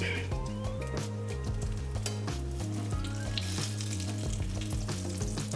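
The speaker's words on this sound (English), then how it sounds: "We frying our eggplant for like about a minute, 2 minutes max." Eggplant sizzles and crackles steadily in oil in a frying pan, a dense continuous hiss with music playing loudly underneath throughout.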